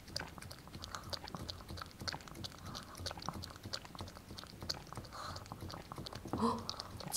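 A dog chewing strawberries in an eating ASMR setting, soft wet bites and munching close to the mic, quiet and irregular, with a brief louder sound near the end.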